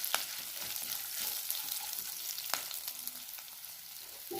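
Curry leaves hit hot tempering oil already holding slit green chillies while a buttermilk curry (majjiga pulusu) is being made, giving a steady, close crackling sizzle with sharp pops throughout and no talking.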